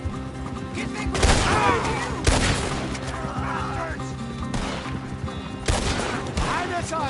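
Gunfire rings out in the video game Red Dead Redemption II, with bursts of sharp shots and echoing cracks in several clusters over a busy game soundscape, loud and close.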